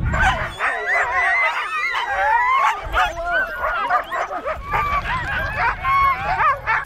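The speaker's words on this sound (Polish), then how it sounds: "Pieski wyczuły, że będzie wyżerka." Several dogs yip, bark and whimper excitedly close by, their high overlapping cries continuing throughout with barely a pause.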